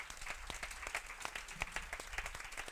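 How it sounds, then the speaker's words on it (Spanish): Applause following a panel talk on motherhood in women's sport, a soft, somewhat distant patter of many hands clapping steadily throughout, fairly quiet overall. "Un aplauso para ellas, por favor."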